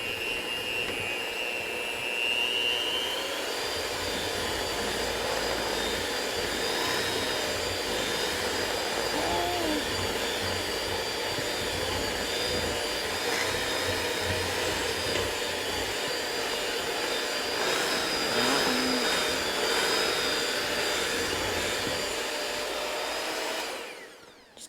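An electric mixer runs at a raised speed beating red velvet whoopie pie batter in a theme-park kitchen, giving a steady, moderately loud whir that holds throughout and cuts off at the end, with no talk.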